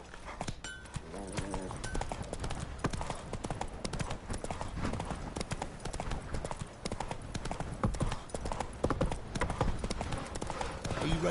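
Horse hooves pound in a fast, continuous galloping rhythm in The Witcher video game, loud and close throughout, with brief voices and game ambience mixed in.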